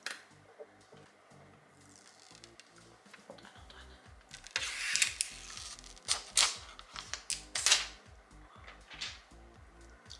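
Eyeshadow palette mirror packaging is opened in a series of crinkling, tapping and snapping handling sounds that grow louder midway, with quiet talking in the background.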